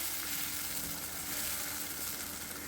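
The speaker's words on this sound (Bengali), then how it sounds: "দেখুন বেশ কিছুক্ষণ এখানে টমেটোটাকে পেঁয়াজের সাথে ভাজা ভাজা করে নিয়েছি" Chopped tomato frying with onion in oil, a soft, steady sizzle heard faintly and evenly throughout the short stretch.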